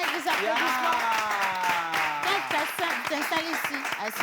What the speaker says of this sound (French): on l'accompagne avec des applaudissements